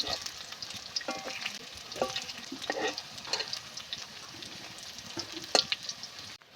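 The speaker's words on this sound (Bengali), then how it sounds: "এভাবে উল্টে পাল্টে আমি মুচমুচে করে ভেজে নেবো" Crisp sizzling of yardlong bean fritters frying in oil, close by, with bursts of louder crackle and spatter as they are turned.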